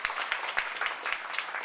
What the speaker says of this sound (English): So huge round of applause for Bava for putting this.